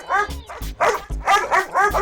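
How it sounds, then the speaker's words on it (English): A dog in a village home barks repeatedly in quick, loud bursts, close to the listener, with short gaps between yaps. "Why is he barking at me?"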